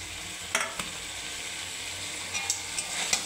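Fried paneer stirred through a spice masala in a pan, giving a steady soft sizzle with a few sharp spoon scrapes and clicks, close and fairly quiet, with no voices.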